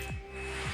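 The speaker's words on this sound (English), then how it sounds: "So now we're going to take off this bolt up here." A ratchet works a bolt loose on a Yamaha V Star 1100 motorcycle, giving two short, close clicking bursts at the start and end of a brief moment with a steady background hum between them.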